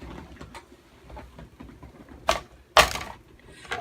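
Gray granite card stock being cut out on a magnetic platform, with soft rustling and handling noise and two sharp, louder cutting snaps near the end, with no talking.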